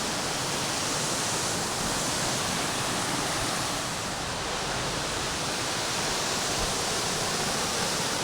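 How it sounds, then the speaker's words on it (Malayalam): A waterfall at Kuruchiyar Mala in Wayanad roars as a steady, loud, dense rush of falling water, unbroken and close. "ഇതിലെ വാട്ടർഫാൾസാണ് വെച്ചാൽ."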